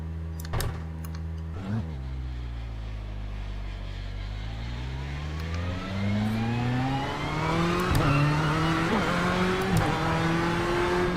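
A GTE race car in the sim racing game iRacing pulls away, its engine note climbing through the gears with shifts and revving, loud and continuous with gearbox whine.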